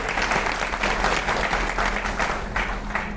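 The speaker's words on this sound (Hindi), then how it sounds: "जोर से तालियां होनी चाहिए वाव एकेडमी के लिए" An audience applauds for Wow Academy at a gathering, with loud, vigorous clapping that rises and falls in uneven surges over a low steady hum, and no voices.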